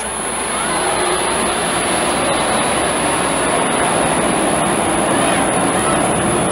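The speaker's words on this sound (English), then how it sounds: "And the jet traffic continues from LaGuardia." A jet aircraft flies over from LaGuardia airport during a 1974 Yankees–Mets baseball game at the stadium, a loud, steady roar of engine noise filling the whole stretch and a faint murmur of voices beneath it.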